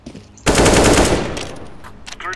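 Rapid automatic gunfire in the CS:GO game, a loud sustained burst of shots starting abruptly and tapering off, with faint game sounds and voices trailing after.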